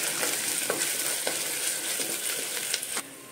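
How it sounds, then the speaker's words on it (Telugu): Onions fry in oil with ginger garlic paste while a spoon stirs them in the pan, a steady close sizzle with light scraping taps, ending abruptly after about three seconds. "ఇప్పుడు ఇందులో కొంచెం జింజర్ గార్లిక్ పేస్ట్ వేసుకుందాము. వేసుకొని కలుపుకోవాలి"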